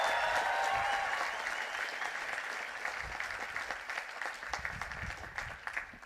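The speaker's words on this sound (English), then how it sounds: "so I think we all deserve another big round of applause" A large audience at a university graduation ceremony gives a sustained round of applause, loud and dense at first, then slowly thinning and fading over several seconds.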